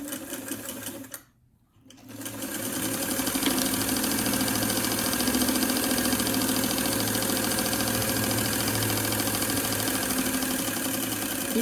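A sewing machine stitches two fabric pieces for a face mask straight across, a short burst followed by a brief pause, then a long, steady, fast chattering run that stays close and loud to the end.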